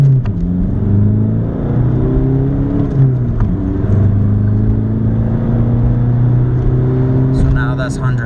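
A Volkswagen Jetta TDI pulls away from a rolling start with a loud, steady engine drone whose pitch climbs and holds. The sound stays close and continuous, with a brief faint chirp near the end.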